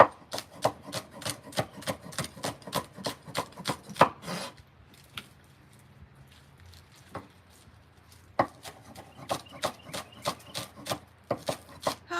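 A kitchen knife chops garden produce on a board in quick rhythmic runs of sharp close knocks, pausing briefly in the middle before another brisk burst.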